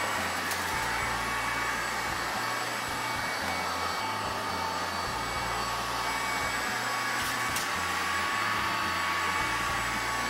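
A MOOSOO K23 Pro cordless stick vacuum cleaner runs continuously close by, a loud steady whine and airy roar with small pulsing shifts as it sweeps the floor, with no talk.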